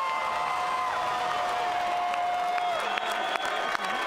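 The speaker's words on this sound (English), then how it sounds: "how about a round of applause for these true warriors tonight" A casino boxing crowd applauds the fighters after a ten-round bout, steady clapping and cheering filling the room with a few sharp louder claps near the end, and a faint tonal whistle running through.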